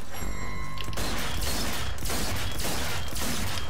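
Video game gunfire from Zombie Army 4: Dead War fills the scene in loud, rapid fusillades, with several dense bursts of shots following one another over a steady mechanical din.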